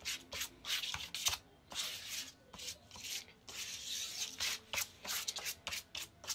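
Glue is spread across a sheet of sandpaper with quick rubbing strokes, a series of soft, scratchy swipes coming in irregular bursts with short pauses between, close and fairly quiet.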